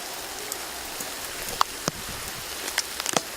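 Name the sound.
heavy rain falling outdoors in fields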